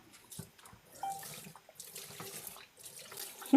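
Water runs from a tap into a sink at a moderate distance, a steady faint splashing with small shifts in flow, no voices present.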